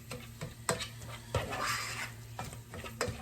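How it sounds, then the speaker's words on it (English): Onion and garlic being stirred in a pan with a utensil, giving repeated scraping knocks against the pan over a faint sizzle, close and fairly quiet with no voice. "Just mix it up really good with our onion and garlic."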